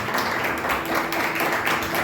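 A church congregation claps together during a Sunday service, a dense, steady patter of many hands that holds evenly throughout without pause.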